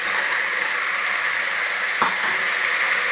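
Chopped tomatoes with other ingredients sautéing in a pan, a steady broadband sizzle with a brief stir or clink partway through, close and alone.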